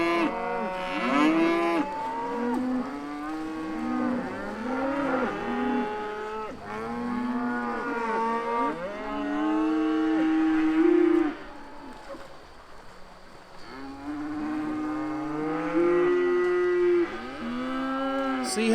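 Herd of cattle mooing while being driven, many overlapping loud low calls from several animals near and far, nearly continuous with a brief lull midway.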